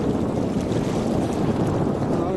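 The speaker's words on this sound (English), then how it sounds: "So I got a little wind now." Steady wind roars across the microphone while sailing a small canoe-style sailboat on a North Carolina sound, a continuous broadband rush with faint water and hull noise beneath, no talking.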